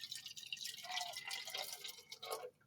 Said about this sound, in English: we're actually going to add 100 milliliters of water just from the sink, room temperature